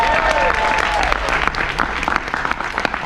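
Audience applause for a business partner and CTO being introduced at a talk on the digital revolution and A.I., a loud, dense crowd clapping that fills the room steadily throughout, with cheers mixed in.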